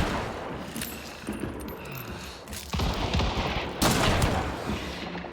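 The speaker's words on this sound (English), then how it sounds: "Potentially the one who's shooting me right now." Gunfire in the video game Hunt: Showdown, with a series of sharp shots and bursts cracking amid a busy, dense game soundscape, some reports louder and closer than others.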